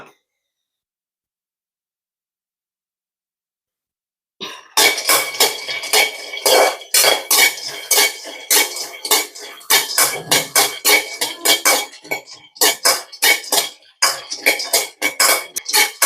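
Peanuts are dry-roasted in a pan, rattling and clattering in rapid repeated bursts as they are stirred. Silence comes first, then a loud, close scraping rhythm continues to the end.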